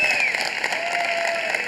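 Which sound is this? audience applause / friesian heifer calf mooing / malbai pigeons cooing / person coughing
audience applause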